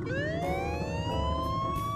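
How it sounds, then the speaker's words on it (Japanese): A custom-built vehicle's horn in the crafting game Trailmakers wails like a siren, a loud continuous electronic tone rising steadily in pitch across two seconds with no talk over it. "一 応ホーンみたいやで、サイレンやな"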